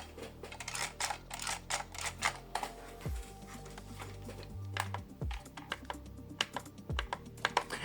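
The trigger of a Nerf Elite 2.0 Spectre blaster snaps against its release, giving sharp, close plastic clicks in an uneven series over faint low handling noise.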